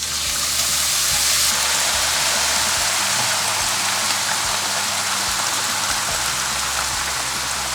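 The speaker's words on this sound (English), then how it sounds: "I'm okay to go ahead and add the red wine and deglaze the bottom of this pan" Red wine sizzles loudly and steadily as it deglazes a hot commercial braising pan, with a dense, continuous hiss and crackle that carries on without a break and no voices.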